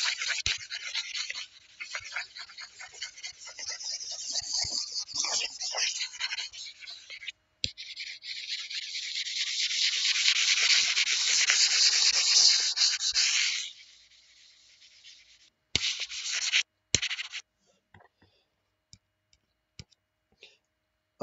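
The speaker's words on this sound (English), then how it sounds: "Do some rubbing out." An eraser rubbing pencil marks off a sheet of paper, a close, raspy back-and-forth scrubbing that rises into a sustained stretch, then stops and leaves a few isolated taps and clicks.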